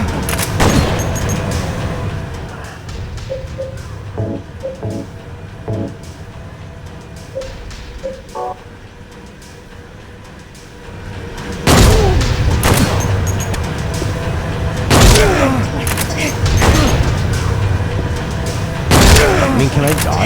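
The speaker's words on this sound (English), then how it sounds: "Oh, that's a hunting rifle." Hunting rifle shots in the horror game Silent Hill 2, several heavy booming reports spaced apart in the latter half, preceded by quieter rumbling game ambience with a voice speaking over it.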